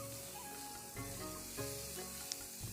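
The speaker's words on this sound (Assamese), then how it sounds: "এইখিনি এতিয়া মই ফ্ৰাই কৰি ল'ম প্ৰায় 1 মিনিটমানৰ কাৰণে।" Chopped carrot, tomato and capsicum fry in a pan with a steady, quiet sizzle, broken by a few soft stirring scrapes and a small pop, with no voices.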